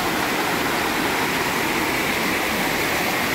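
A stream flows through Hong Kong Park, a steady, broad rushing wash of water heard close and continuous with no talk over it.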